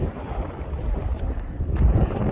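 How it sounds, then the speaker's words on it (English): Steady wind roars and buffets the microphone on a mountain above 10,000 feet, a low, rumbling gusty noise that swells slightly toward the end, with no voices. "Sure is windy up here."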